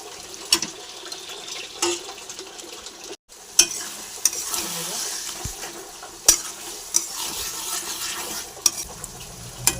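Mutton browning in a pan as it is stirred and sautéed: a continuous sizzle broken by repeated scraping and knocking of a spoon against the pan, fairly close and loud.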